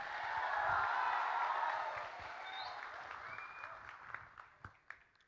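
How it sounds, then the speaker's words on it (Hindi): An audience at a speech event in Bengaluru claps warmly, the applause swelling briefly then tapering off into scattered individual claps. "ताली है सबके लिए।"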